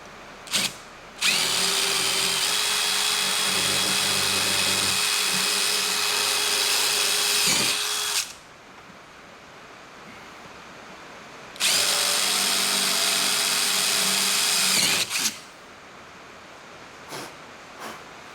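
Power drill driving screws into an upper door panel on a 1976 Trans Am, two loud sustained whirring runs of several seconds each separated by a quiet pause, with a few faint clicks after.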